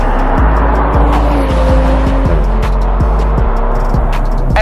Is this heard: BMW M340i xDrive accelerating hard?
yes